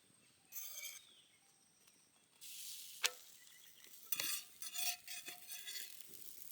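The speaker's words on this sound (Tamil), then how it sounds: "நம்ம அதை அடுப்பில் போட்டு எடுத்துக்கலாம்" Soft sizzling and light scraping as a samosa pastry sheet cooks on a hot pan on the stove, with a few clinks of a utensil against metal, fairly quiet and close.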